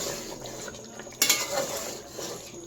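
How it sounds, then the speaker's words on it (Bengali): Mutton cooking in a pot is stirred, with steady scraping and soft clatter of a utensil against metal and a brief sharper clank partway through, over a low sizzling background. "এখনও সিদ্ধ হয়নি মাটন আরও হবে জাস্ট নাড়া দিচ্ছি"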